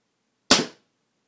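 A single sharp shot from a Flasc Paintball TM-15 paintball marker, one close loud pop that decays quickly into silence.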